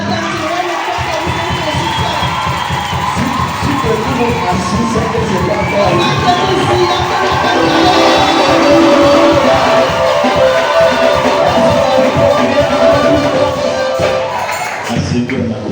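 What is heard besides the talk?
congregation cheering and shouting in acclamation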